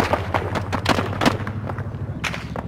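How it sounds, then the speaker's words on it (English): Enemy gunfire in ArmA 3 aimed at a rooftop position, a series of separate moderately loud shots at an uneven pace over a low, steady background rumble. "I'm standing on top of a rooftop being shot by fucking enemies."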